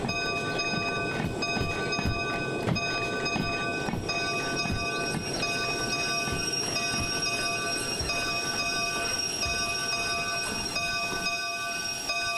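Steam locomotive in the Derail Valley simulator game running with its cylinder cocks open, a continuous rhythmic chuffing hiss under steady whistle-like tones, loud and close for the whole stretch.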